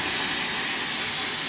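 Loud, continuous hissing of steam rushing out of a Grand Canyon steam locomotive, a steady broadband roar close by with no pauses.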